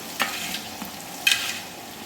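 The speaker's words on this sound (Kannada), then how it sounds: "ಎಣ್ಣೆನಲ್ಲಿ ಒದಗ್ತಾ ಇದೆ ಬೆಳ್ಳುಳ್ಳಿ ಪೇಸ್ಟನ್ನ ಹಾಕ್ಕೊಳ್ತಿದ್ದೀನಿ" Garlic paste frying in hot oil in a large batch for ghee rice, a soft continuous sizzle broken by two sharp stirring scrapes, close and alone.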